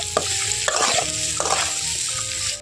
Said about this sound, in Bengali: এখানে খুব ভালো করে একটু তেলের মধ্যে ভেজে নিতে হবে